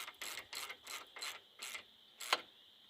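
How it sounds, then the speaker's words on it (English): A wrench ratcheting on a hydraulic line nut of a Case 1840 skid steer: about seven evenly paced rasping ratchet strokes, close and quiet, ending with a sharper metallic click. "And then tighten this nut down."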